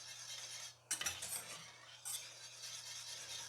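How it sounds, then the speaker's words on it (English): Two eggs are whisked into almond bread batter, with a few sharp utensil clinks against the bowl over a soft steady scraping, close and fairly quiet, with no talking. "2 eggs, whisk them in."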